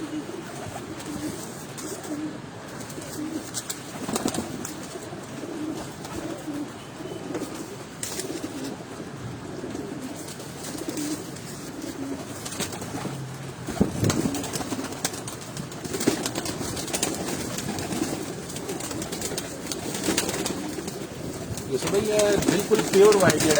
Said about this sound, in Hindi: तो ये सारे के सारी ये जो स्क्वाड है ये परवाजी कबूतरों की है